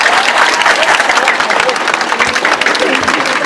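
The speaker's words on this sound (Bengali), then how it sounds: "আমি মনে করি যত জোরে হাততালি দেওয়া সম্ভব এই দুইজনের জন্য আরেকবার হাততালি যাচ্ছি" A crowd at a school debating competition claps loudly and continuously in a hall, dense applause filling the whole stretch for two people being honored.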